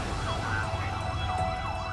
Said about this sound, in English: Ambulance is here right now.